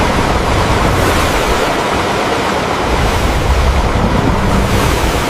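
Ocean waves on a sea voyage, a loud, steady roar of surf and rushing water mixed with strong wind buffeting the microphone, with no voices.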